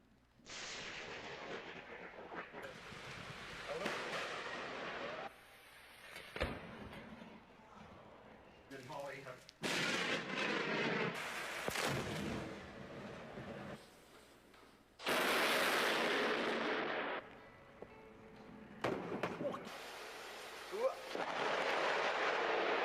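A powerful thunderstorm plays back from a video shown to an audience, loud bursts of thunder crashing and rumbling in repeated waves over roughly twenty seconds, with heavy broadband noise between peaks.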